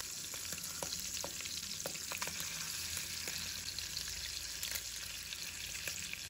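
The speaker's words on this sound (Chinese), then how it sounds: "5分钟到后，我们就准备来翻面煎其他的一面" Pork belly pan-frying in a covered pan over medium-low heat, a steady close sizzle with scattered pops and crackles running without a break, no voices over it.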